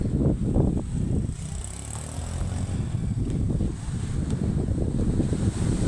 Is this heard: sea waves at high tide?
yes